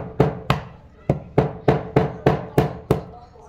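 Tamarind seeds are struck and cracked open in a run of eight sharp, evenly spaced knocks, each a hard close thud with a short decay.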